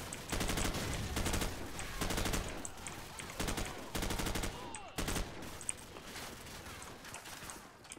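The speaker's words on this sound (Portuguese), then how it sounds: "É muito tiro, mano." Heavy gunfire in rapid automatic bursts, loud sustained volleys at about 0.5, 1.5, 2.5, 4 and 5 seconds, with scattered single shots and a faint voice in between.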